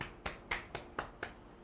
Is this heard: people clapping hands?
yes